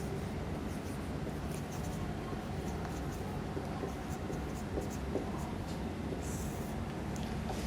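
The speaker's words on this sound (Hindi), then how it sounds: "अब लिखते हैं प्लेन मिरर" Pen scratching steadily on paper while plane mirror notes are written, a continuous close scribble over low room hum with no talk.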